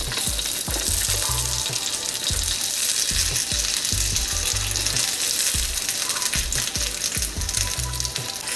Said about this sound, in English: Now I'm gonna take all my vegetables and put them in my wok with a little bit of grapeseed oil.